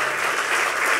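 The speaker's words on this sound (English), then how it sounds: "Give him a huge round of applause" Brief, dense applause from a conference audience at a HOPE hacker event greets a performer, a steady wash of clapping with no gaps.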